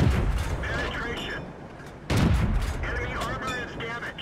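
A VK 16.02 light tank firing its 5cm gun in World of Tanks, one loud sharp gunshot mid-clip over engine rumble and battle noise, with someone talking throughout.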